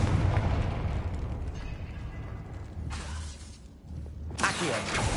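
In Hogwarts Legacy, a Confringo fire spell explodes in a roaring burst of crackling flame and rumble, followed by repeated bright blasts of fiery noise over a continuous loud game soundscape.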